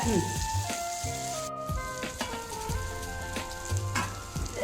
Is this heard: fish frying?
yes